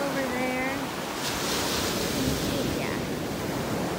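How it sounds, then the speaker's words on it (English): Big ocean waves wash and break continuously near a boat dock at a parasailing spot, a broad steady roar mixed with wind, while voices talk faintly underneath. "And the waves are pretty big."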